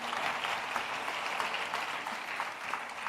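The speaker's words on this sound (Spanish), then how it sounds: "Denle un aplauso al Señor." Congregation at a pastors' retreat claps steadily, a continuous, fairly loud and even applause with no pauses from start to finish.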